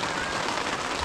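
Steady rain falls on surfaces outdoors, a dense even hiss of drops with no pauses, moderately loud and close, with no voices heard.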